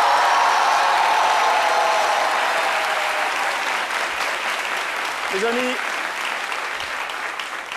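A studio audience at a live French-language TV talk show breaks into loud, dense applause that stays full throughout and eases slightly toward the end, with a presenter briefly speaking over it.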